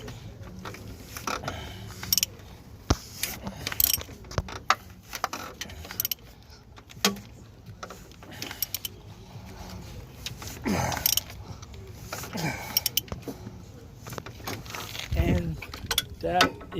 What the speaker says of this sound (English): Now once again we did an 18 extension in the ratchet, and now let's turn it.